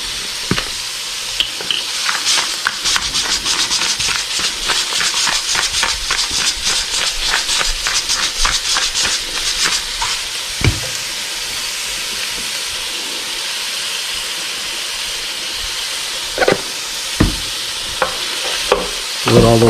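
Onion and garlic stirred and frying in a Ninja Foodi pot, a steady sizzle with repeated scraping strokes of the utensil in a quick rhythm, then quieter sizzling with a few sharp clanks near the end.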